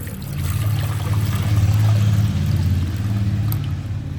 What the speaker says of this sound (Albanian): Në tenxhere do të shtoj disa shkopin kanelle dhe ujë.